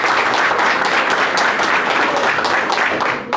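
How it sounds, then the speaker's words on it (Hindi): Audience applause for first-time attendees at a Vestige business motivation meeting, a dense, steady wash of many hands clapping close by, continuous throughout and tapering slightly at the end. "एक बार इन सब के लिए ताली बजा दो सर"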